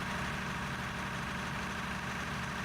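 A vehicle engine idling in the mining video game Out of Ore, a faint, steady low drone with even vibration and no other sounds.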